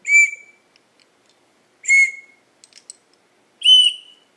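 A handmade deer antler whistle trimmed with ebony wood, blown in three loud, shrill, clear blasts spaced over a few seconds, with faint handling taps between them.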